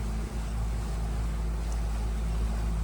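Fishing boat easing slowly across Santee Cooper lake, a loud steady engine drone with deep rumble and wind buffeting, close and continuous.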